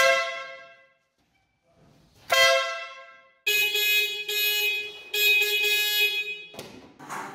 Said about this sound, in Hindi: जब आप प्रेशर हॉर्न चलाना चाहें तो प्रेशर हॉर्न भी चला सकते हैं